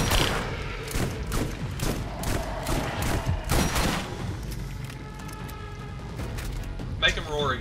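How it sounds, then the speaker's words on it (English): Sledge's shotgun in the Borderlands video game fires several loud, punchy blasts in quick bursts amid other combat thuds and noise, with voices talking over the action. "This is the only time Sledge's shotgun comes in handy."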